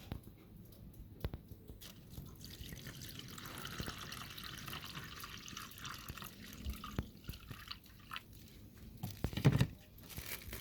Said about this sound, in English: we're just going to go right ahead now and pour out our liquid right into our bag